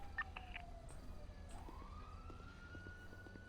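Police sirens wail in GTA RP, a rising and falling tone sweeping upward and holding, fairly faint and distant with a low engine rumble beneath.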